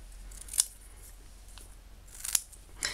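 Scissors cut dried craft paper for a Halloween decoration in a few sharp, close snips spaced apart, quiet between cuts, no talking.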